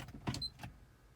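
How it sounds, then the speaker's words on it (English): A power side mirror on a Honda Crosstour tilting downward, a brief faint electric motor whir with a small click, close up in a quiet car cabin. "But as you can see, the mirror descends"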